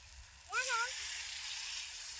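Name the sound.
food frying in a pan outdoors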